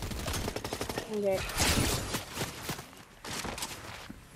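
Video game gunfire crackles in rapid bursts and scattered shots, fairly quiet and mixed with footstep-like clatter, while a player speaks briefly.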